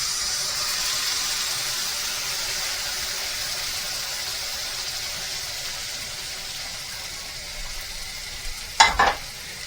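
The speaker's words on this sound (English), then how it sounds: "Next we add our tomatoes." Tomatoes are added to a pan of sizzling wild rabbit jalfrezi. A steady hiss of frying runs throughout, and near the end a couple of sharp scraping clatters from stirring cut through it.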